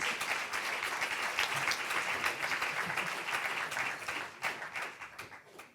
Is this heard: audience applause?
yes